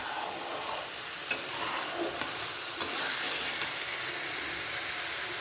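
Masala with black cumin seeds frying in oil in a pan, a steady bright sizzle with a few soft clicks of stirring, close and continuous with no talk.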